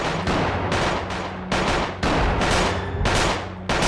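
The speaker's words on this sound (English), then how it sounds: "There's like a firefight and a half going on down here." Heavy gunfire from a firefight in the Project Zomboid video game, loud and close, with dense automatic bursts separated by brief gaps, continuous throughout.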